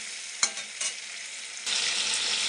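Paneer curry sizzles while being stirred in a pan, with a couple of sharp scraping strokes early on, then the sizzle swells louder and steadier for the final second, no voices present.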